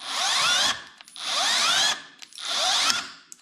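A drill bit grinding into steel inside a threaded metal tenon, three separate bursts of loud whining, scraping bite, each about three-quarters of a second long with short pauses between.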